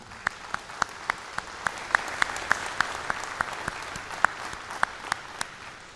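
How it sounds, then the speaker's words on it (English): A crowd applauds steadily at a doctoral commencement ceremony, dense clapping with a few sharp individual claps standing out, sustained throughout. "So why don't we give them a round of applause right now?"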